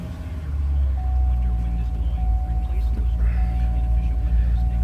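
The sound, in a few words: 2009 Chevrolet Corvette engine starting up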